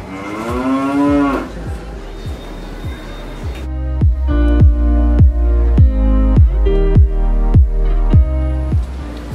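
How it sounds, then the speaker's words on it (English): Cows lowing on a road trip through Belarus, first one long loud moo, then a steady series of rhythmic, pulsing low calls close by, fairly loud and clear with no talk over them. "And there's another cow there."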